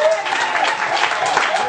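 Church congregation applauding and cheering in praise during a women's anniversary worship service, a dense steady wash of clapping with voices mixed in throughout.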